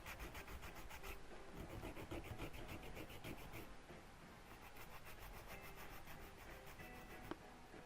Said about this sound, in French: Ici, je vais limer tout mon ongle.